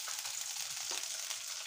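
Fish fries in a pan with a steady, dense hiss and sizzle, close and continuous throughout, with no talk.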